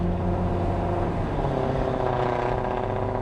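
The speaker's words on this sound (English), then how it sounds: "I don't know who drives Chrysler 300s when they're straight piped, but that does not sound good" A straight-piped Chrysler 300 drives by, its harsh, droning exhaust rising in pitch as it accelerates, steady and fairly loud at mid distance, with no one talking.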